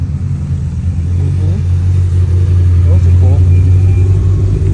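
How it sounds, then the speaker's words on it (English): Several Mitsubishi Evo cars roll in at a Southern California car meet, a steady loud low engine rumble close by with slight rises in revs, no voices heard. "more Evos rolling in."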